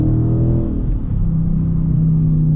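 A Dodge Charger 392 Scat's V8 blips upward during a pedal rev match, a loud, close, deep rumbling engine note that rises and then holds steady.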